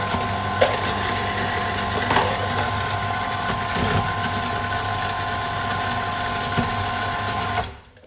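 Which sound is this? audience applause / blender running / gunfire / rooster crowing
blender running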